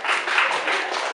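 Seminar audience giving a speaker a round of applause, dense steady clapping close and loud for about a second before stopping abruptly.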